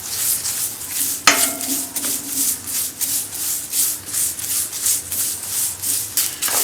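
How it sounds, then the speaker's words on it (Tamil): Dry curry leaves tossed in a hot pan for rasam powder, a steady run of scraping and rustling stirs with a sharp clink near the start and faint sizzling underneath, no voices. "அதை கருவேப்பிலையை வறுக்கணும்"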